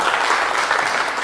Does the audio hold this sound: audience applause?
yes